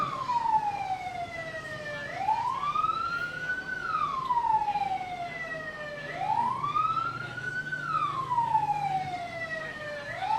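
A fire engine siren wails in slow rising and falling sweeps, repeating about three times, loud and close over a low vehicle rumble.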